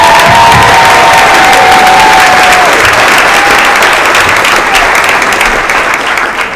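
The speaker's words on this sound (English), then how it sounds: "Let's give another round of applause for them." Loud crowd applause with cheering and shouts from an audience at a school music concert, rewarding an elementary school band; dense, steady clapping throughout.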